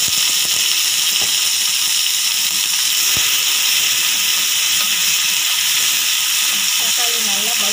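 Chopped tomatoes sauté in a hot pan for a bitter gourd fry, giving a steady close hiss of steam and sizzle that runs throughout, with a few faint clicks.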